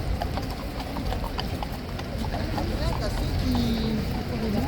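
Horse hooves clip-clop in a steady, irregular rhythm on pavement at Horse Guards in London, mixed with crowd chatter and outdoor street bustle.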